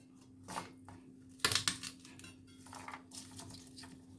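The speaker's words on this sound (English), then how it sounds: "Using a big knife here and just give it a press." A big kitchen knife presses down on garlic cloves on a board, giving a few sharp clacks and thumps with a louder cluster near the middle among quieter scraping and handling sounds.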